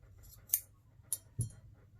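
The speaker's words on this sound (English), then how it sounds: "And then when I give it a little bit of a cut at the end" Scissors snip the end of a knitted yarn cord, giving three quiet, crisp clicks spaced unevenly in a hushed room, close to the listener.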